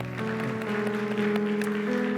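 A church congregation at a Sunday worship service claps together in a dense, steady burst of applause over a low sustained musical tone.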